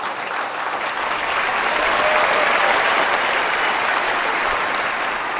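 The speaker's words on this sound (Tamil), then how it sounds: "ஒருங்கிணைப்பாளர்களுக்கு நாம் ஒரு நல்ல கைதட்டு கொடுத்துறணும்" An audience at a Tamil stage debate (pattimandram) applauds the organisers, a loud, dense roar of clapping that swells after the first second and stays full and steady to the end.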